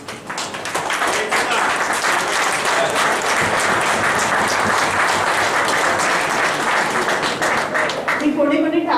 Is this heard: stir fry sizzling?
no